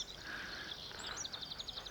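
Birds call at a nature reserve, with a quick run of faint high chirps over a breezy outdoor background.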